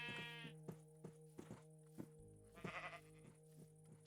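A Minecraft sheep bleats a few times, faint and close, over a soft regular thumping and a steady tonal background.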